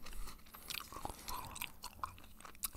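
Gum chewed right up close to the microphone, with wet smacking and crunchy clicks repeating in an uneven rhythm for a few seconds, with no talking.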